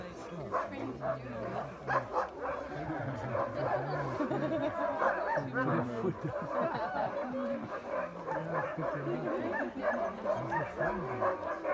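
A crowded chorus of sled dogs barking, yipping and whining all at once at a Denali National Park kennel demonstration, a dense, restless clamor that never lets up.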